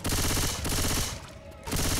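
Rapid automatic gunfire in the zombie shooter Left 4 Dead 2, a loud dense burst of repeated shots that thins briefly in the middle before resuming, with no talk over it.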